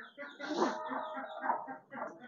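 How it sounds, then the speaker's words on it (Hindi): Chickens and roosters in a farm coop cluck and call in a steady run of overlapping, fairly close sounds, with people talking alongside them. "ये हैं जी हमारे सारे मुर्गे, इन्हें निकालते हैं।"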